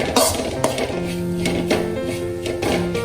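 A spoon scraping and clinking against a pan while chicken masala and turmeric are stirred and sautéed, with repeated metallic knocks and a steady sizzle close by.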